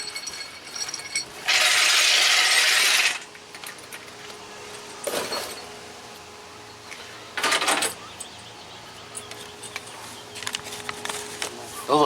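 A small jack among shop tools gives several bursts of ratcheting, with a long loud grinding stretch early and two shorter bursts later, plus scattered clanks between them.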